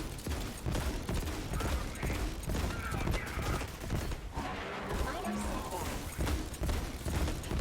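Echo pistol firing in Borderlands 3, dense rapid gunshots and impacts in loud continuous combat, with chaotic game effects throughout.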